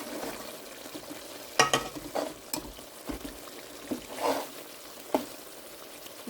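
Chicken salan frying in oil in a home kitchen, a soft steady sizzle broken by several louder stirring scrapes and bursts spread through the clip, close and moderately quiet with no voices.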